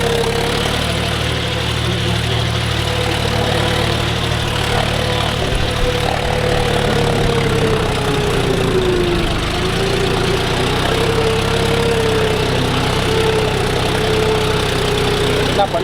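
A John Deere 5050D 4WD tractor pulling a nine-tine arm cultivator through a field: a steady, loud diesel drone whose pitch rises and falls slightly, running continuously for the whole stretch.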